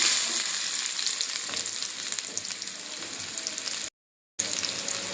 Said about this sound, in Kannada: ಈಗ ಎಣ್ಣೆ ಕಾದೈತಿ. ಇದಕ್ಕೆ ನಾವು ಏನು ಹೆಚ್ಚಿಟ್ಕೊಂಡೇವಲ್ರಿ ಈರುಳ್ಳಿನ ಹಾಕೋಬೇಕು.